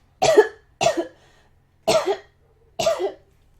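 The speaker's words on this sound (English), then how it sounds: "And suddenly I need to cough." Four separate coughs, close and fairly loud, spaced out with brief silences between them.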